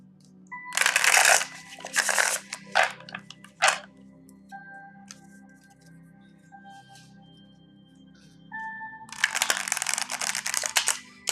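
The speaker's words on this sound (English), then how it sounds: "I feel like these need one more little good shuffle" Cards are riffled and shuffled in two brisk bursts with small taps and clicks between them, close by and quiet.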